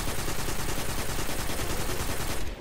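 Sustained rapid gunfire from a weapon in Destiny 2, loud and continuous with dense repeated shots filling the whole stretch before cutting off at the end.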